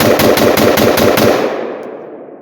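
An AR pistol fitted with a CMMG adjustable gas block fires a rapid burst of about eight shots, loud and close, with the reports ringing out and fading once the magazine runs dry.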